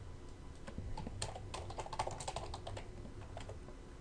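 Rapid typing on a computer keyboard, fairly faint, with dense irregular key clicks and short pauses, no talking.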